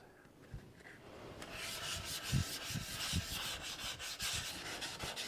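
Steady rhythmic rasping strokes of sandpaper rubbing by hand over raised wood grain on a thinned primer coat, close by, with a soft back-and-forth scratching texture and no speech.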